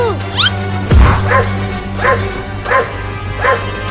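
A cartoon dog barks and yips in a steady series of about five loud, close barks after an opening whine, over a constant background music bed.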